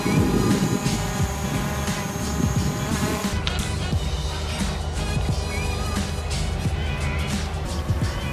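A DJI Mavic Pro 2 drone flying and descending outdoors, its propellers making a steady, high whining buzz with a sharp shift partway through, fairly close and continuous.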